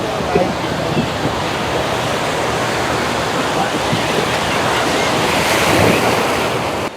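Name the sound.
ocean waves breaking on Malpe beach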